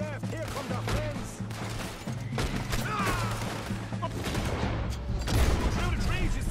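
Gunfight during a train robbery in Red Dead Redemption 2: repeated sharp gunshots crack out in an irregular fusillade over a steady low hum, with shouted voices mixed in among the shots.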